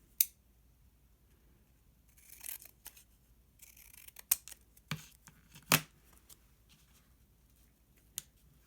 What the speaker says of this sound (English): I think I'm going to trim it down just a little bit.